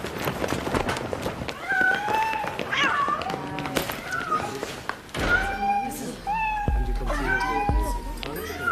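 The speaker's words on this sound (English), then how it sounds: "I believe I've identified our cat." Several cats meow and yowl repeatedly in a lively, overlapping chorus, loud and close, with a person speaking among them and bursts of footsteps and bumps.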